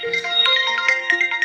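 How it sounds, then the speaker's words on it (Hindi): A mobile phone rings with a bright, melodic ringtone repeating its short tune steadily and fairly loudly in a home setting from a Haryanvi family drama, with no talking over it. "ये किसका फोन है?"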